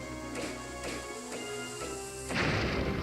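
In the video game The Legend of Zelda: A Link Between Worlds, a bomb explodes with a sudden crashing burst at the end, after a few quieter rhythmic game sounds.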